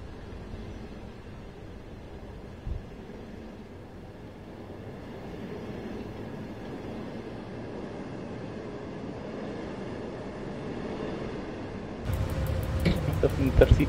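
A double-unit EP09 electric locomotive in the MaSzyna train simulator game starts off gently at night, a low steady rumble and hiss that builds slowly before a sharper burst of mechanical noise near the end.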